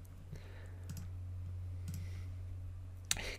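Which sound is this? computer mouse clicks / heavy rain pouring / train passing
computer mouse clicks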